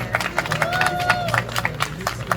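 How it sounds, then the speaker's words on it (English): Wedding guests clap together outdoors at a ceremony in Cayamas Park, a steady patter of applause with a voice carrying over it throughout. "Give them a round of applause, everyone."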